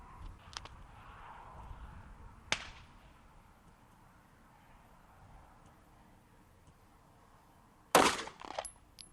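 A Sig Sauer P365 pistol fires 9mm Remington Golden Saber rounds into ballistic gel, sharp isolated cracks heard a few times, with one loud close report near the end over otherwise quiet outdoor background.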